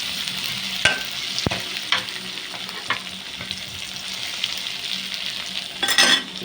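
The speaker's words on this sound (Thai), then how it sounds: "พัดให้หอมนะครับเนาะ" Aromatics stir-fried in a hot pan for a Thai home-style dish, giving a steady close sizzle with repeated scraping stirs of the utensil and a brief louder clatter near the end.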